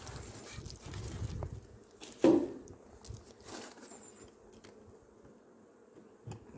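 Honeybees hum steadily at an opened hive during the first inspection of the year, a soft continuous drone with a brief louder burst near the middle and no talking.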